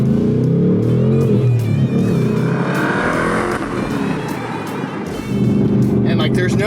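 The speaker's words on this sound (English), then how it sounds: "So I'm gonna go to sport mode, which is like the variable exhaust mode. And as you kind of give it throttle, it modulates how much it's open." A Ford Mustang S650 fitted with a MagnaFlow xMOD performance exhaust in sport mode revs up loud and close, the engine note rising and falling across several throttle blips and then surging again near the end.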